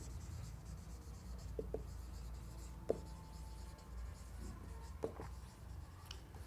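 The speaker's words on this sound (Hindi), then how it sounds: "तो इस तरह से यहाँ लिख सकते हैं" Chalk or marker writing on a board during a Hindi-language chemistry lesson on alcohols, a faint scratchy scraping with a few sharp taps over steady room hum, no speech.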